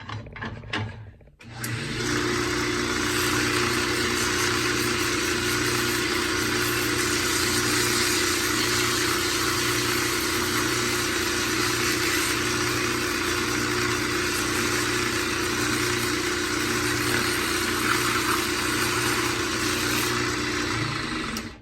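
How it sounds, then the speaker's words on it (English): Wood spins on a lathe while sandpaper is held against the turning spindle, giving a steady whirring motor drone with a broad, continuous abrasive hiss that starts abruptly after a brief quiet and holds evenly to the end. "from this part, we can come in with our sandpaper"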